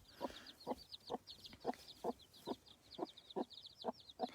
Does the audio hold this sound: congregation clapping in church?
no